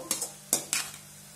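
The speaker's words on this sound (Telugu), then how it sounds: "ఇలా వేసుకొని బాగా కలుపుకుందామండి" A spoon scrapes and clinks against a pan while stirring a soya chunk and egg mixture, with four quick strokes close by over a faint sizzle and no talk.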